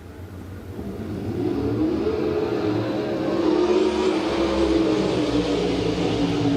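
Sprint cars at an off-road dirt speedway roar back up to speed on a restart in a heat race, a swelling multi-engine howl that rises in pitch and loudness as the pack accelerates past.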